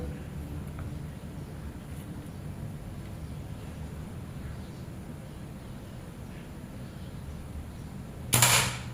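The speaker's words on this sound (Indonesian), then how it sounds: "Tembakan pertama." A single sharp shot from a Predator Ataman Crane PCP air rifle, 2700 psi with a 30 cm seamless barrel, near the end, a brief loud crack after a long stretch of quiet outdoor background.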